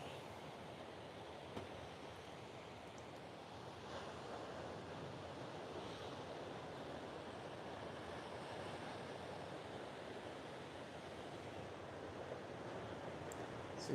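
Small ocean waves break and wash continuously at Snapper Rocks, a steady distant surf roar mixed with wind noise on the microphone, quite faint and with no voices.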